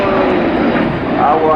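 A Spanish Air Force CASA C-101 jet trainer flies past at an air show, a steady loud engine roar and whine that keeps going over the whole moment, with crowd or commentary sound mixed in.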